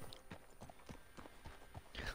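Horse hooves clip-clop at a steady walking rhythm in the Red Dead Redemption II video game, fairly close, with faint ambient sound and no talk.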